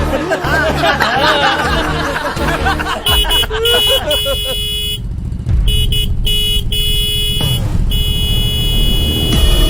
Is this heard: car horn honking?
yes